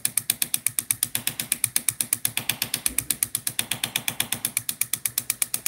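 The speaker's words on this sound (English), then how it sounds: "Just doing a tiny microscopic hammer texture." A hammer handpiece taps a tiny hammer texture into metal, a fast, even stream of sharp mechanical clicks repeating many times a second, close and loud with no talking.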